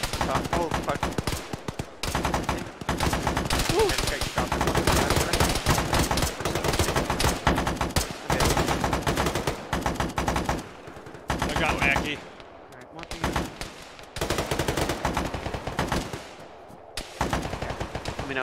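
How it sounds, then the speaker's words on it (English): Gunfire from the Arma military video game during a ShackTac squad session: sustained automatic bursts and rapid shots that keep going for most of the stretch, dense and loud, broken by brief lulls. "Gunfire hits the top."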